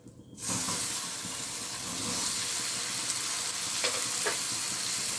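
Tomatoes frying in oil in a pan for hotel-style green chilli chicken, a steady close sizzle that starts abruptly and holds loud throughout, with a couple of faint stirring clicks.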